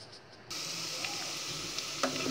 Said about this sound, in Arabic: انا حمرت البصلة، بحمرها